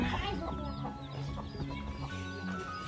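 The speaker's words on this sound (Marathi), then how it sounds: "कोंबड्या" Several chickens clucking and murmuring nearby, overlapping calls in a steady chatter with soft outdoor background noise.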